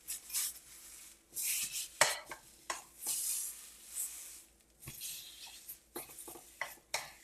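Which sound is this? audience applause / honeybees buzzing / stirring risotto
stirring risotto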